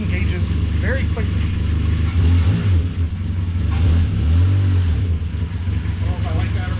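A 1988 Ford Festiva engine hums and rises and falls in pitch as the car is put in reverse and moves off after clutch work, close by, with people talking over it.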